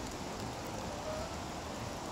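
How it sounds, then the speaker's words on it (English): Heavy rain on a gray, wet day makes a steady, dense hiss that fills the whole clip at an even level, with no voices over it. "it is actually a very gray and wet rainy day"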